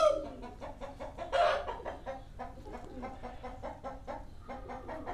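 Chickens and a rooster cluck repeatedly at close range on a farm, a busy run of short, choppy calls with one louder squawk early on.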